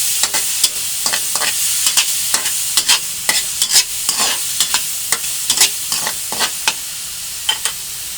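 Udon, squid balls and spinach with seasoning stirred in a sizzling pan, a rhythmic series of sharp utensil scrapes and clacks over a low, steady frying hiss.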